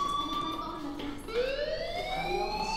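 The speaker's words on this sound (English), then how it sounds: "Hey, do you hear that fire alarm?" In the video game Life Is Strange, a fire alarm sounds as a wailing electronic tone with rising sweeps, moderately loud against a quiet background.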